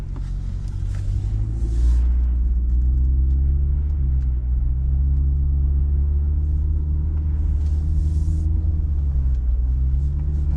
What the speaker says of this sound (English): Let's take the car for a little drive, man.